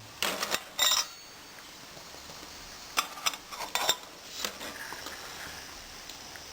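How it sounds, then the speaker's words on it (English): A Trangia mini stove's metal burner top being fitted on upside down, a series of light metallic clinks and taps in scattered bursts, close and fairly quiet with no talk. "try to put the burner top on, as I mentioned, inverted"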